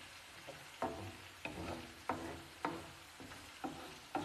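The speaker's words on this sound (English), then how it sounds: "There are few smells in the world that smell better than sauteing onions and garlic." Onions and garlic sautéing in olive oil sizzle softly under a regular series of sharp spoon scrapes and stirs against the pan, close and unhurried, with no talking.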